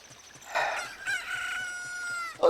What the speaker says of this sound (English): Look, a chicken just crowed behind them